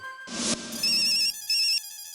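A phone placed on speaker for a call plays a ringtone of bright electronic tones, starting with a burst of noise and then sounding in steady repeating rings, fairly loud and clear with no talking.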